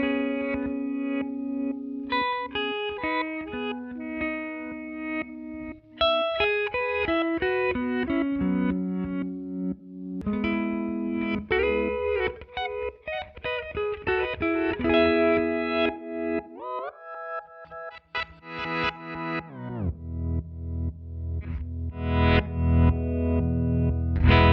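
A Hologram Electronics Chroma Console diffusion module set to reverse processes a melodic instrument line, notes swelling backwards with distorted, chorused tails over about twenty-five seconds, ending in a dense low rumble.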